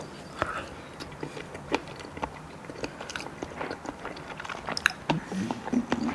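Someone biting and chewing a mouthful of pink deviled egg topped with steak, soft close chewing and faint crunchy clicks in an irregular rhythm, quiet, with a low murmur of voice in the background.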